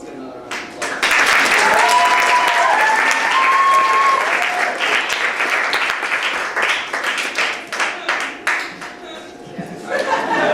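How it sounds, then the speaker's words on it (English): Audience at a student-written play applauds, a dense burst of clapping that swells quickly and slowly thins out, with some chuckles and chatter mixed in. "So let's get another round of applause."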